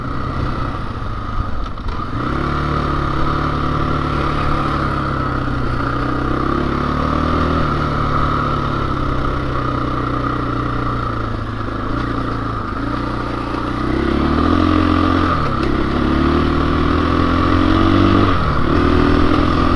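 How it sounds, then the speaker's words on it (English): A KTM motorcycle engine drones steadily while riding, its pitch rising and falling with throttle changes, loud and close with wind noise throughout. "Everyone's so nice to motorcycles around here."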